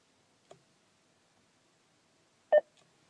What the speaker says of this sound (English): to start the voice command system, press and hold the voice command button.